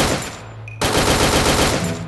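Automatic gunfire in a zombie video game: a loud burst of rapid shots, a short pause, then sustained rattling fire that continues to the end.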